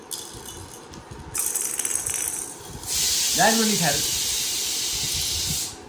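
A pressure cooker whistle releases steam in a strong, close hissing burst that sustains for several seconds after an earlier softer hiss, with a voice speaking briefly over it in the middle.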